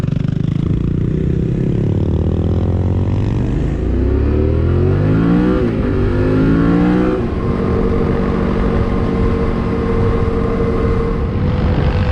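A touring motorcycle on a road trip through Queensland pulls away in gear and accelerates hard, its engine note climbing through rising revs and a gear change into a loud, close, sustained drone, with no talking.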